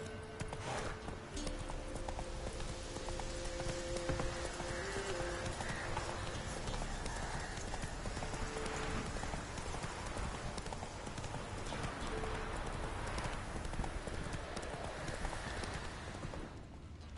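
Horse hooves clip-clop steadily in the video game The Witcher 3, a continuous rhythmic patter of hoofbeats at moderate loudness over an ambient game soundscape, with no clear speech.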